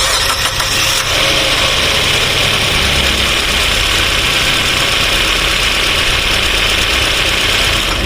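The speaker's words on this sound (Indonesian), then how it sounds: "Mobil akhirnya menyala." A car engine cranks and catches about a second in, then settles into a loud, close, steady idle with a faint knocking rattle and no voices.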